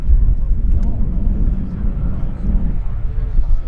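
A light aircraft arriving at EAA AirVenture Oshkosh drones overhead with a steady, loud low rumble and wind buffeting, holding even throughout with no clear rise or fall.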